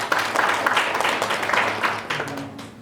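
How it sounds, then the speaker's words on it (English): Applause from an audience at a civic education session, a dense steady patter of many hands clapping together throughout, fairly loud, with some faint voices underneath toward the end. "give yourselves a round of applause"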